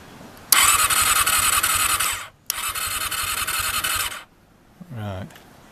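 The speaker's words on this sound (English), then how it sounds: "let's see if it goes through when I start cranking engine over" A Honda CBR400RR NC23 motorcycle that refuses to start cranks over on its starter in two long bursts, a loud whirring, rapidly chugging spin, each stopping abruptly, followed by a brief muffled voice.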